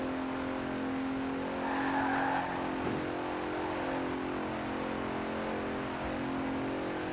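A Bentley Continental GT grand tourer in the video game Forza Horizon 4 hums with a steady, fairly quiet engine drone, holding an even tone throughout with no voices.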